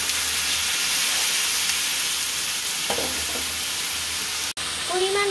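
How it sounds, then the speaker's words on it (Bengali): Potatoes and cauliflower frying in a pan, a steady loud sizzle and hiss throughout with brief utensil taps, and a voice heard briefly near the end. "আলু আর ফুলকপিগুলোকে ভেজে নিতে হবে।"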